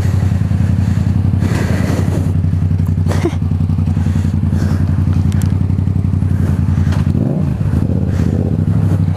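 A motorcycle, a Yamaha MT-07 or Honda NC750X that had sat unused for a week, runs loud and close with a steady engine rumble and occasional clatter as it sets off.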